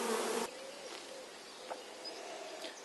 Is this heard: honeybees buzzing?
yes